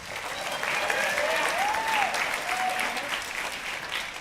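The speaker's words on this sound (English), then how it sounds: "Give them all a round of applause, all the All-States players." A high school band concert audience applauds the All-State players, a sustained, even wash of clapping from a full hall with a faint whistle drifting over it.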